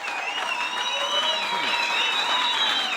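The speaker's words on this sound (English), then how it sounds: "Can we give Kenny a big round of applause" Church congregation applauding, a continuous wash of clapping from a gathered crowd with some voices and a few tonal sounds running through it at steady volume.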